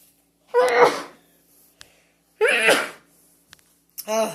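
Two sneezes in a row, close and forceful, separated by a quiet pause, followed by a brief breathy sound at the end.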